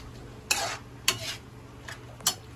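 Corned beef and potato are stirred in a pan, with three or four distinct scraping strokes of a utensil against the metal over a faint background sizzle, and no voices.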